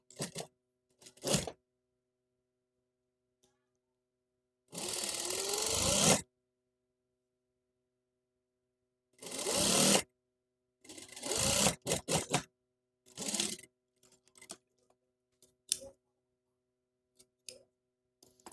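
Sewing machine stitching a trouser waistband in several separate runs of rapid, steady whirring, with quiet gaps and small handling clicks between them.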